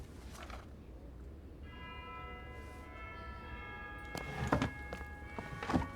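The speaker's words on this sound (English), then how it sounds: "The bells were playing the theme from Awakening." Bells chime the Fire Emblem Awakening theme inside the video game Fire Emblem: Three Houses, a sustained melodic run of ringing tones over a low background hum, with a few soft thumps near the end.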